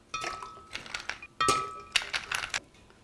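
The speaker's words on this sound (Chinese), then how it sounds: "放点冰块下去，" Ice cubes clink and rattle as they drop into a glass for a homemade infused liquor drink, a few bright, close knocks in two quick bursts with a short pause between.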